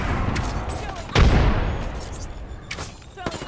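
A frag grenade detonates in Apex Legends as a single loud, close boom with a short rumbling tail, set amid ongoing game noise and someone talking over it.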